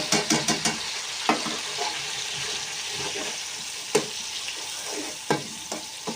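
Garlic paste sizzles in a pan with already browned onions, a steady quiet fry broken by sharp clicks and scrapes of a stirring spoon.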